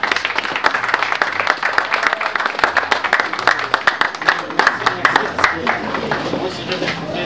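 Standing audience gives a round of applause for an honoree at a ceremony, crisp, close individual claps forming a lively, uneven patter throughout, with a voice speaking over it at times.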